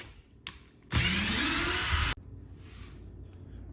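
A Dewalt Xtreme 12V DCF601 screwdriver whirs loudly for about a second as it drives a screw, with a rising motor whine. Quieter handling noises come before and after.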